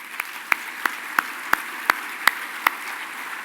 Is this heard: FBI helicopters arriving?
no